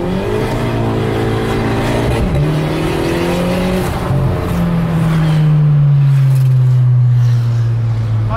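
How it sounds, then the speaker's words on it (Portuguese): A turbocharged Volkswagen Jetta on Falken tires revs hard and accelerates, its engine note climbing and sliding in pitch, loud and close throughout. "Eu vou acelerar, ele não vai nem fazer barulho de pneu cantando."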